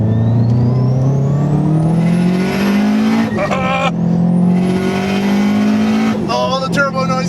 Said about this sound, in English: Oh, the turbo noises!